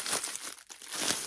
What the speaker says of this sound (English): sorry for the crinkling here